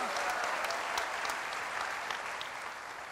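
Steady, dense applause from a large church congregation during an Indonesian sermon, a continuous wash of clapping with no voices above it.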